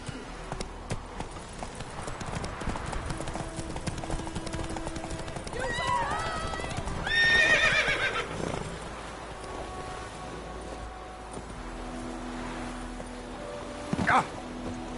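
Horse Roach from the Witcher 3 video game gallops with steady clip-clop hoofbeats, and a brief neigh breaks through midway, over faint game ambience.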